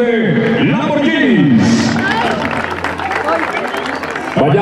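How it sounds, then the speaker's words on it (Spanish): Crowd applause and cheering fill a bull riding rodeo arena during a Mexican bull riding tournament, loud and continuous, with a Spanish-speaking announcer talking over it throughout. "Póngale el apoyo y el aplauso, queridos amigos"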